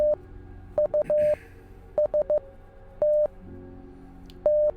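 Short electronic beeps in irregular groups of short and long tones, like Morse code, fairly clear against a quiet background.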